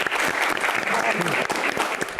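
A studio audience claps steadily for a guest star at a Jakarta anniversary show, dense and continuous applause throughout, with no break in the clapping.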